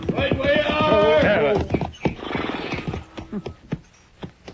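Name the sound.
horses approaching in radio drama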